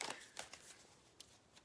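A quick riffle of tarot cards being shuffled, followed by a few soft taps and flicks, close and quiet.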